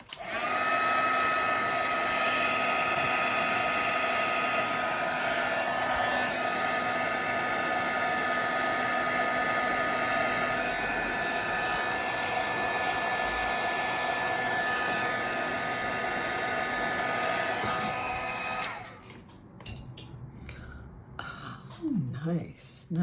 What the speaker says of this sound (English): you can make it dry with the heat gun.